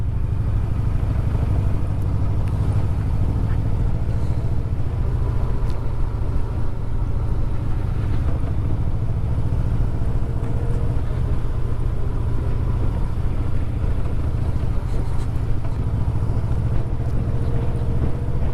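A Yamaha Vmax motorcycle engine in fifth gear drones at a steady low pitch, cruising along evenly with constant road and wind rumble and no change in speed.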